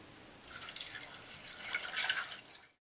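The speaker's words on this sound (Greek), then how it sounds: "θα τα ρίξουμε σε ένα μικρό κατσαρολάκι και θα τα σκεπάσουμε με νερό" Water runs from a tap into a small pot holding quince peels and pits, a soft, close trickle and splash that builds after a brief pause, with no talk.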